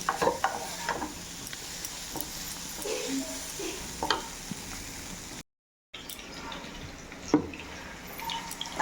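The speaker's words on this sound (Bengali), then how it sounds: "এদিকে ফুলকপি আলু ভাজা বসিয়ে দিয়েছি ভাজাটা প্রায় কমপ্লিট হয়েই গেছে" Cauliflower and potatoes frying in a pan give a steady low sizzle with occasional stirring scrapes and clicks, broken by one brief silent gap.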